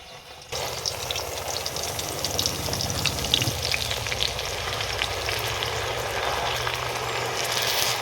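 Herbal paste for homemade hair oil sizzling and frying in hot oil, a steady close crackle that jumps in loudness as the paste goes in and keeps hissing throughout.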